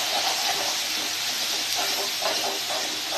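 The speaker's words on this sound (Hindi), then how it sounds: "जीरा पाउडर, लहसुन अदरक का पेस्ट, स्वाद अनुसार नमक, ये सारे सामग्री को हम फ्राई करेंगे।" A masala of cumin powder, ginger-garlic paste and salt fries in a pan for matar chaat, giving a loud, steady, close sizzling hiss without pause, with no voices.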